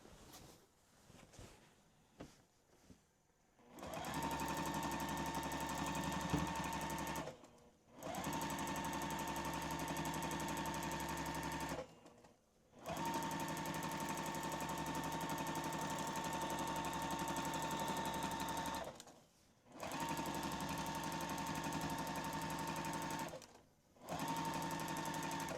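Sewing machine doing free-motion quilting, running in long steady bursts of rapid needle chatter separated by short pauses, close and fairly quiet, with no voices.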